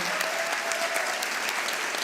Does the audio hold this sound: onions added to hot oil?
no